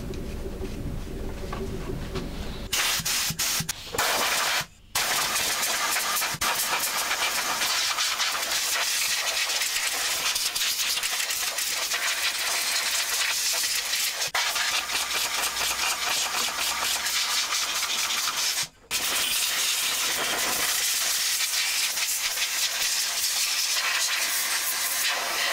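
Compressed air blasts through a long nozzle while a welding machine is cleaned, a loud continuous close hiss broken by two brief pauses, with no talking.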